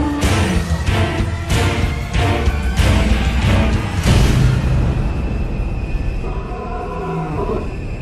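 A lion roars from a distance on the African savanna, a series of deep, rhythmic pulsing calls that fade into low grunts, heard over steady outdoor ambience.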